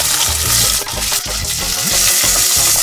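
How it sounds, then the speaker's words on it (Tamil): Onions sautéing in a pan until reddish brown for biryani, a loud steady sizzle with repeated scraping stirs and clinks of a spatula, close up. "ரெட்டிஷ் ப்ரௌனா வதக்கு."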